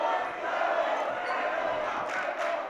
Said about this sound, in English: I don't think I've ever heard the student section as loud as they are right now.